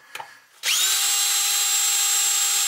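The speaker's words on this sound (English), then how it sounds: "You put the drill in the middle of the mass like this." Power drill boring into a semi truck fuel tank during a vegetable oil conversion: a brief tap, then the motor spins up to a loud, steady high-pitched whine that holds to the end.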